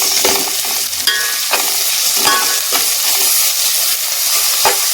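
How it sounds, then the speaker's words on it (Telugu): Ginger garlic paste and onions are stirred as they fry in a pan for a chole masala curry. A steady loud sizzle runs throughout, broken by short scraping spoon strokes every second or so, with no voices. "ఒక స్పూన్ అల్లం వెల్లుల్లి పేస్ట్ దంచుకున్నాను అది అందులో వేసేసి బాగా తిప్పేసుకున్నాను"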